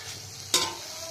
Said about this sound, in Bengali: আলু আর পেঁয়াজগুলি ভাজাটা হয়ে গেছে